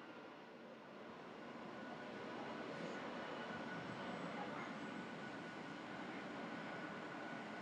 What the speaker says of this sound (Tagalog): So disturbo gamay no kanay eroplano no.